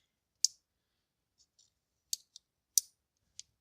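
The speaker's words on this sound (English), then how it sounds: "some filament got a little bit stuck in the wrong spot, so I'm just going to peel a little bit of that stuff out" Small plastic clicks and snaps as stuck 3D-printed filament is peeled out of a printed canister, four sharper cracks with a couple of faint ticks between, close and isolated against silence.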